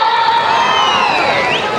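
A crowd at a cultural program cheers and whoops in one brief, loud burst of sustained shouting voices.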